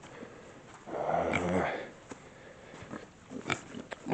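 Pigs grunt and snuffle in a pen under a new A-frame winter shelter, with a louder burst of low grunting near the middle and scattered soft snorts afterward, close by and fairly quiet.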